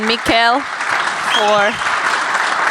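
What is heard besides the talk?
panel audience applause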